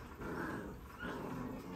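A young puppy, one of a litter being vaccinated, lets out two low rumbling growls in quick succession, faint and close, with no talk over it.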